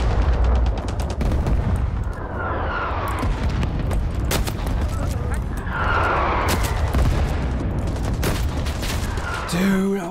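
Artillery fire support strike in a first-person shooter, a heavy barrage of booms and rapid gunfire crashing close and loud, with whistling incoming rounds, while voices talk over the chaos.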